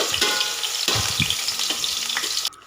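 Chopped shallots and onion sizzle loudly in hot oil in a pan for Kerala-style fish head curry, a steady frying hiss with stirring scrapes, cutting off abruptly near the end.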